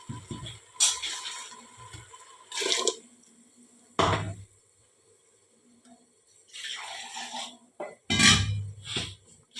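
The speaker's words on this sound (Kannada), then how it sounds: "ಸ್ವಲ್ಪ ನೀರು ಹಾಕಿ ಕದಡಿ ಹಾಕಿಕೊಳ್ಳಿ" Several bursts of water splashing and pouring into a pan of masala, separated by short quiet gaps, with a faint drip-like rattle between them.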